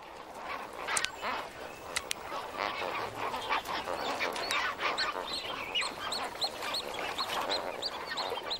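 A dense flock of flamingos calls continuously at moderate distance, a steady honking, goose-like chatter with repeated higher nasal notes and a few sharper cries rising over the din.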